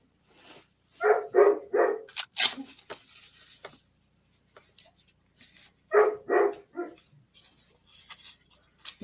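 A dog barks in two short bursts of three quick woofs each, fairly close and moderately loud, with soft yips and small noises in the gaps between.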